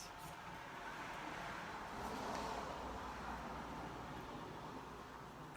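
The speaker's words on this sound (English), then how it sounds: "I do get traffic here." Faint road traffic drones outside, a steady distant rumble of passing cars with a gentle swell as one vehicle goes by.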